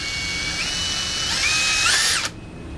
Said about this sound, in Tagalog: mahalaga na malapit ka sa gitna talaga pag bumutas ka ng end cap